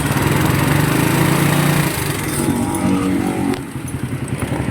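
A motorcycle engine runs loud and close with a rough, buzzing rattle, then settles into a choppier idle.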